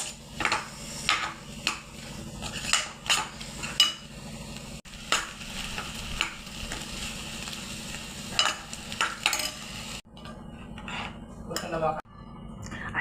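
Potato and pea curry being sautéed in a pan, a metal spoon scraping and clanking against the pan in irregular strokes over a soft sizzle, close and fairly loud.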